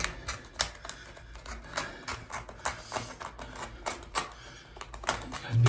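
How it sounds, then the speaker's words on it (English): A sharp blade chops through thick woven grasscloth wallcovering against the grain, making a quick run of close, crisp snapping cuts at an uneven rhythm. "now with a sharp blade. This stuff is hard to cut like this."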